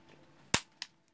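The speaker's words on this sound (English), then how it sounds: "And once the gun is loaded, you can shoot it." A Retay XR gun fires with a single sharp, loud crack indoors, followed about a quarter second later by a fainter second snap, with no talking.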